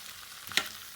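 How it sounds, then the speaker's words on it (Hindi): Fried chicken pieces for chicken manchurian being stir-fried in a pan, a steady faint sizzle with one brief louder scrape of stirring near the middle, no talking. "चिकन जो है फ्राई किया था वो ऐड कर देंगे और इसे सिर्फ 1-2 मिनट के लिए ही पकाएंगे, मिक्स करेंगे अच्छे से इसको"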